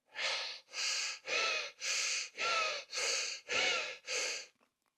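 Eight quick, forceful breaths in an even rhythm, each a loud rushing burst of air, close to the microphone, then silence.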